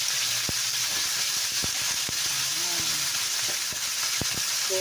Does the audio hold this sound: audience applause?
no